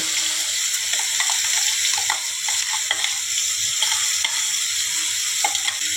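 A ground spice paste frying in a pan for a banana-stem dish: a loud, dense, continuous sizzle up close, with faint scattered clicks of stirring underneath.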